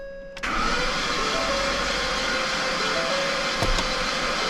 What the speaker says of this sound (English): And it is cranking over.